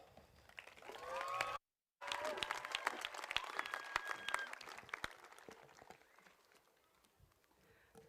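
Audience applause fills a high school graduation ceremony hall, a dense run of clapping that swells, breaks off briefly near the start, then continues strongly before gradually thinning out toward the end.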